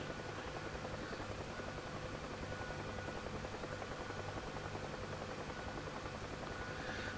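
An aircraft in the DCS flight simulator game taxis along a taxiway toward the runway, its engine producing a steady, loud, continuous drone with a constant hum throughout and no talking.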